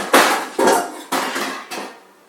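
A cooking pot is pulled out and handled in a home kitchen: five distinct metallic clanks and bumps, each ringing briefly before fading, spaced about half a second apart, close and fairly loud.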